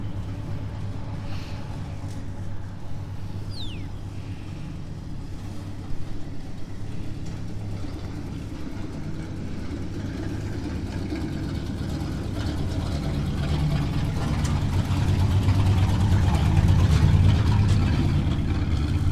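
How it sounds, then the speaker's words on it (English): A heavy truck engine rumbles in the distance and grows gradually louder and deeper as it approaches on a quiet rural Kansas morning. "I think I hear a truck on the way in"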